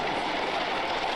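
Roller coaster train in the video game Rollercoaster Tycoon 2 gives a steady, dense rumble of rolling wheels on track, continuous and fairly loud with no gaps and no voices.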